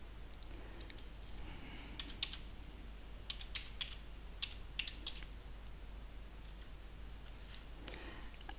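Keystrokes on a computer keyboard as contact details are entered into a jobseeker record, light scattered clicks in short bursts over a quiet room hum, with a pause near the middle.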